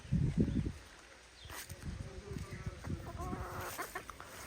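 Bantam Australorp chickens cluck and murmur softly close by, with a few brief bursts of clucking over quiet background noise.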